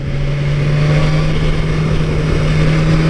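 A BMW S1000RR motorcycle engine pulls in fifth gear at around 5,000 rpm, a loud, steady, even drone with a constant low tone throughout, heard close with wind rush and no talking.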